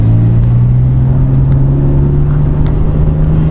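A BMW M3 runs through a newly fitted exhaust system, giving a loud, steady, low droning hum that holds evenly throughout without a clear rise in revs.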